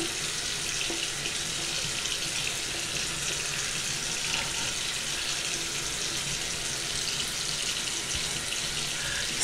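Water runs steadily from a bathroom faucet as a face is rinsed, a continuous close hiss and splash with no pauses.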